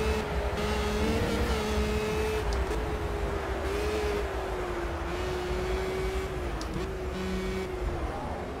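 Race car engine at full throttle in the racing game Project CARS, a steady sustained drone that holds its pitch with small dips as it shifts, heard alone without talk.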